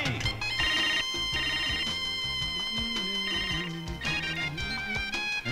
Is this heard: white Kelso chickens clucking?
no